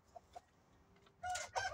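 A farmyard rooster crows close by in rural Turkey, a short, fairly faint burst of loud crowing near the end after a few small clucks and soft background noise.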